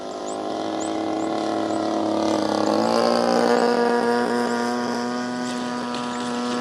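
An E-Flite Carbon-Z Cessna 150T RC plane with a 2.1 m wingspan takes off close by, its electric motor a steady, loud whine that rises in pitch and swells midway before easing slightly as it pulls away.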